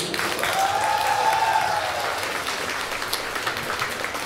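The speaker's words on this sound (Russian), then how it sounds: "Аплодируем." Concert audience applauding at an accordion (bayan) solo show in Moscow, a steady dense wash of clapping filling the whole stretch, loud and close, with a faint whistle early on and no clear speech.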